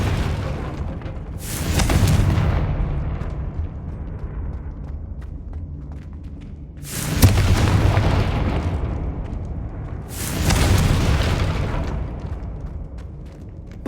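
Three heavy booming blasts of the Confringo fire spell in Hogwarts Legacy, each a loud deep burst with a rumbling tail, spaced a few seconds apart over a low steady game background.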